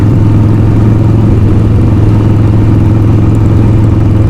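Harley-Davidson Sportster Bobber custom build on a test ride, its engine giving a loud, close, continuous low rumble that holds steady throughout without talk.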